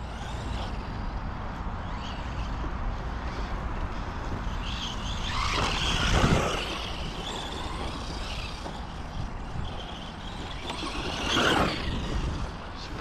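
An FTX Ramraider 4wd RC truck drives nearby with a steady, gritty motor whine and tire noise throughout, swelling louder in two brief bursts as it passes closer.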